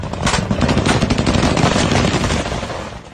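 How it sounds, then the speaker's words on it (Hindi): Rapid automatic gunfire from a Taliban attack on Pakistani soldiers near the Afghan border rattles in dense, loud bursts, continuous for about two and a half seconds before fading, with no talk over it. "तालिबान के लड़ाके रात भर पाकिस्तानी सैनिकों पर गोलियां चलाते रहे।"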